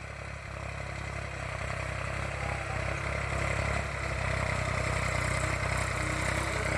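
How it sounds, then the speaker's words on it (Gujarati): A tractor engine runs steadily on a farm while pulling a harrow, a continuous mid-pitched drone that builds slightly louder toward the end, with no voices. "આજે મારા પપ્પા દાંતી આંકી રહ્યા છે ને ટ્રેક્ટરમાં"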